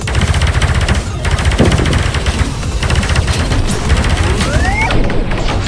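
Rapid automatic gunfire from the VR game Space Pirate Trainer rattles continuously, with a rising electronic whine and faint voices underneath.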